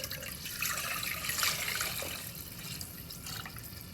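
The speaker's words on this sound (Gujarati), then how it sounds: "તો બીજું એટલું પાણી ઉમેર્યું મેં અંદર" Water is poured into cooking dal for dal dhokli in a home kitchen, giving a soft, steady splashing and trickling that swells briefly and then eases, fairly faint and with no talk.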